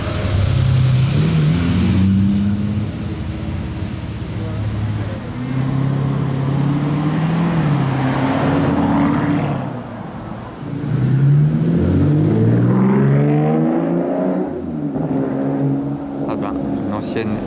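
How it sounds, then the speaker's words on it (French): Older Porsche and Ferrari sports cars driving past in Monaco, their engines droning and swelling loudly with rising and falling pitch, one car nearer than the other. "Alors là on a une ancienne Porsche et là on a une ancienne Ferrari."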